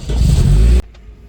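A K24-swapped Toyota MR2 Spyder engine pulls hard in a loud, close rev that cuts off abruptly partway through, leaving a quiet idle-like rumble.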